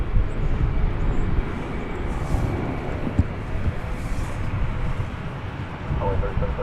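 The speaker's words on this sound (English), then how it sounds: "This is a 777-300ER. That's flight 448." A Boeing 777-300ER airliner at DFW Airport gives off a continuous low rumbling engine roar, fairly loud and steady, with talk occurring over it.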